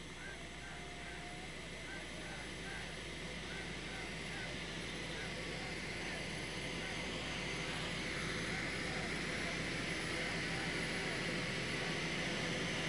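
After a 1987 ALCS win, an airplane engine drones loud and steady on the tarmac while the team steps off the plane, with a commentator talking over the constant roar.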